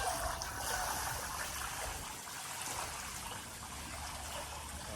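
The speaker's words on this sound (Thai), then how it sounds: "เราก็จะเติมจุลินทรีย์สังเคราะห์แสงลงไปในน้ำนะครับ" Photosynthetic bacteria liquid poured into water, giving a steady close trickling and splashing wash that runs continuously without pause.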